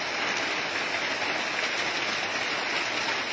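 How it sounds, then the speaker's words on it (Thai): Steady rain falls over ground, trees and rice plants, a dense continuous hiss at an even level throughout with no voices. "ฝนตก"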